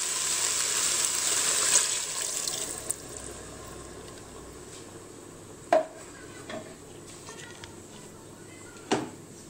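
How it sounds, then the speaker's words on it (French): Veal stock and water stirred in a Cookeo multicooker, a steady watery swish at the start that fades, followed by a few sharp spoon knocks against the pot. "Donc je mélange un tout petit peu, juste pour le fond de veau"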